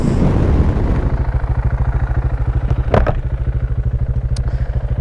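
A 2018 Aprilia Dorsoduro 900 motorcycle lugging from very low revs and pulling up from the bottom, a loud, close, throbbing engine with an even pulsing beat and a short rattling burst midway.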